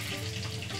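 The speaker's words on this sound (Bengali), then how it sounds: "মাছগুলোও দেখো ভাজা হয়ে গেছে" Fish frying in a pan in a Bengali home kitchen, a close, continuous soft sizzle with no voices.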